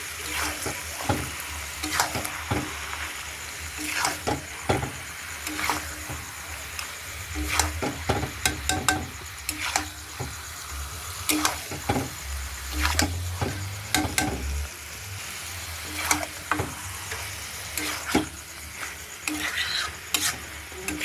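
Mutton fries with chili powder while a spatula scrapes and knocks around the pan in repeated sharp strokes over a continuous sizzle, the stirring coming in bursts throughout.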